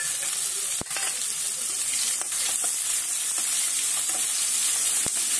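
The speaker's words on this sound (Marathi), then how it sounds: "त्यात आता आपण कांदा व्यवस्थित असं परतून घेऊ।" Finely chopped onion frying in a pan with ginger and garlic, a loud continuous sizzle with a few sharp spatula knocks against the pan, no voices.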